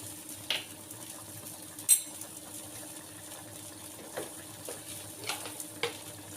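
Urad dal and black pepper being dry roasted in a pan, a faint low sizzle punctuated by a few sharp spoon scrapes and taps against the metal.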